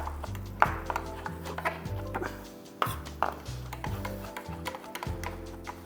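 Knife chopping tender coconut malai on a board for a prawn and mustard oil sauce: rapid, steady close-up taps in quick runs with brief pauses, moderately quiet, no talking.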